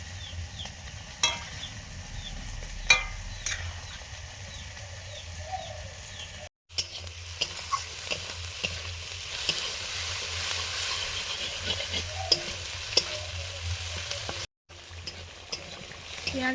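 Fish and red amaranth stems fry in hot spiced oil in a home kitchen pan, a steady close sizzle with occasional stirring clatter and brief breaks in sound, with no talk.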